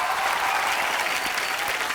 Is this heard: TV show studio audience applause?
yes